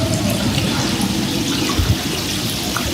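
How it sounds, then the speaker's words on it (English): Water splashes and trickles steadily at a beachfront resort in Phú Quốc, Vietnam, a continuous close, fairly loud wash of liquid noise with no voices over it. "I love the sound of just water dripping."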